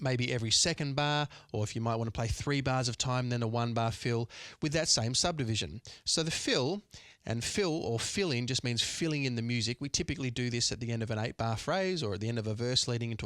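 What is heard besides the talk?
None of the usual background noises is heard.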